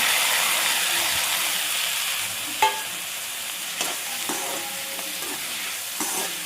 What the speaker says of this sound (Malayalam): ഇനി നമുക്ക് തക്കാളിയും കൂടെ ഇതിലോട്ട് ആഡ് ചെയ്ത് കൊടുക്കാം